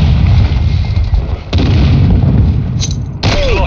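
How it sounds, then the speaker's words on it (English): Loud booming blasts from a grenade going off in Call of Duty: Modern Warfare 2 multiplayer on the Shoot House map, two heavy explosions with rumbling tails over dense game noise. "Throwing grenade!"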